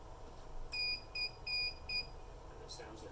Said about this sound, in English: And it sounds the buzzer on the MVR.